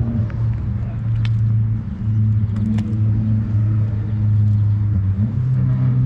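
A turbocharged K-Series engine in a 2020 Honda Accord hums at a low, steady idle close by, its droning tone dipping and rising slightly as the revs shift.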